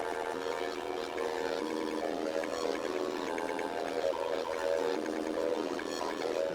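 A dense, distorted sampled loop flipped into a hard rock beat in FL Studio 21 plays continuously at steady volume, full and gritty across the whole range, with no talking.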